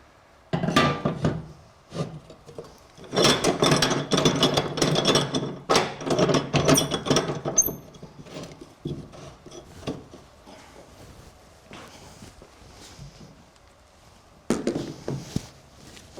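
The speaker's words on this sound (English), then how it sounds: "So up first, we go with the abrasive disc." Abrasive disc cutting through a workpiece at a live power-tool demonstration, with loud, harsh grinding bursts in the first half that fade into quieter, intermittent scraping before a final short burst near the end.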